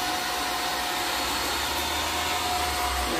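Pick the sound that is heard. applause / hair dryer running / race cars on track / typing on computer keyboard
hair dryer running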